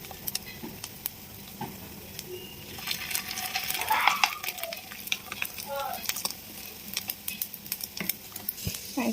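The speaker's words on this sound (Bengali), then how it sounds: "এখানে এবার আমি এই ডিমটা দিয়ে দেবো।" An egg frying in a pan crackles and sizzles steadily up close, swelling louder midway, with light spitting pops and occasional soft utensil taps.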